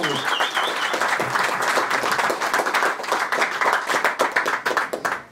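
Applause and rhythmic clapping from a diaspora crowd at a political gathering for the Democratic Republic of Congo, loud and close, with cheering voices and a whistle over the claps.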